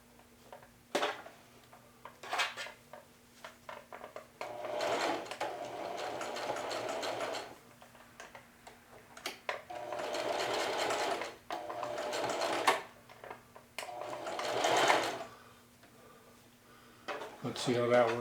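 A sewing machine runs a zigzag back tack along the bottom point of a pocket in several bursts of rapid, close mechanical stitching, separated by short pauses and faint handling clicks.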